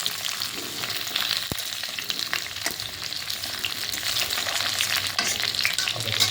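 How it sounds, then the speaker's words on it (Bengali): Potato and tomato fry in a pan for a fish recipe, giving a dense continuous sizzle with occasional stirring scrapes and a single sharp knock, close and fairly loud with no voices. "এবার দিয়ে দেবো আলু টমেটো দিয়ে এবারেও এটাকেও ভাজা ভাজা করে দেবো"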